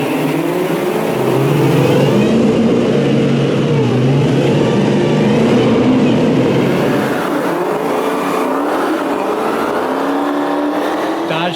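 A 797-horsepower Dodge Charger Hellcat Redeye roars loudly and continuously close by, its engine revving and pulling hard under acceleration with a deep, sustained throaty drone.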